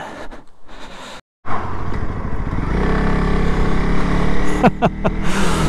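A Honda CRF300L Rally motorcycle ridden on the way home, its engine droning steadily and building after a brief dropout, with wind rush and a few sharp clicks near the end.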